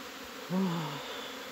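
Young honeybees on their first flight from the hive boxes, a close, brief buzz swelling over a steady background drone of many bees.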